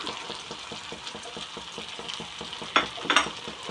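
Fish masala, chilli powder and turmeric fry in hot oil and are stirred at a steady pace, giving a soft sizzle with rhythmic scraping and two brief clattering knocks near the end.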